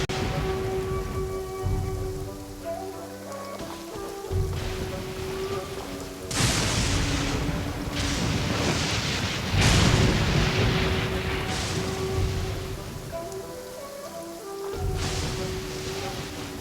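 A heavy downpour in the video game Genshin Impact hisses continuously while several loud, crashing thunder rolls break through, some close and booming, with no talk.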